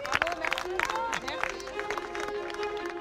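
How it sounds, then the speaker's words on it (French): Audience applauding a club outdoors at the Bois de Boulogne: rapid, scattered claps mixed with cheering voices and chatter, moderately loud and fairly close throughout. "On l'applaudit!"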